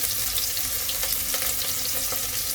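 Onion fries and browns in a hot pan for a lamb waterblommetjie stew, a loud, dense, even sizzle that holds steady throughout with no talking.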